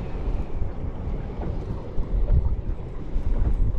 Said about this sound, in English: How windy is it, eh? Even in here.